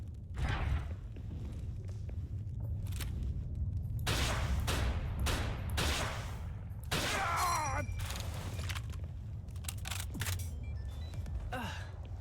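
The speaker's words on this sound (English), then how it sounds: "So I get to use a rocket launcher." Rocket launcher fired in a video game, about five loud separate thumping blasts spread over several seconds, each with a rushing tail, amid low background rumble.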